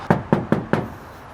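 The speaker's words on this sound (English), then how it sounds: "I'm just gonna knock and see his reaction." Four sharp knocks on a house door in a quick, even rhythm, close and loud, then quiet.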